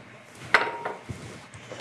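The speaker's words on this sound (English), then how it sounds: "Break this up, stir with a whisk, and then add your melted cooled butter." Muffin batter stirred with a whisk in a bowl, a brief sequence of light metallic clinks and soft scraping taps against the bowl, close and fairly quiet.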